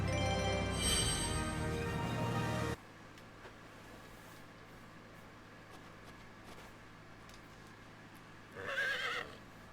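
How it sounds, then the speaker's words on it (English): A horse neighs in the Xbox 360 video game Eternal Sonata, with a loud whinny at the start, then a quieter stretch of game ambience and a second brief whinny near the end. "Sounds like the horse noise from Legend of Dragoon."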